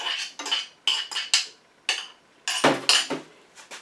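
Frozen meatballs and vegetables dropping into a metal pot for sweet and sour meatballs, a string of sharp clinks and clatters, close and distinct, with a louder tumble midway and no talking.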